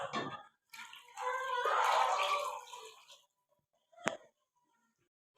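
Hot water pours into a pot of daal during cooking, a splashy rush lasting a couple of seconds, followed by a short clink and then quiet, all heard up close.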